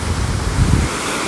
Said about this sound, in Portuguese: tem um trecho de mar mais aberto, onde a arrebentação das ondas é mais forte